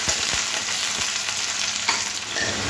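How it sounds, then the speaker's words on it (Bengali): Chopped onion fries lightly in hot oil in a wok, giving a constant close sizzle with a few soft stirring clicks throughout. "এবার দিয়ে দেবো কেটে রাখা পেঁয়াজ। পেঁয়াজটা একটু হালকা ভেজে নেব।"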